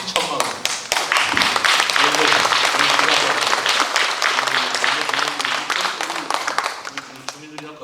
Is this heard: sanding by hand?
no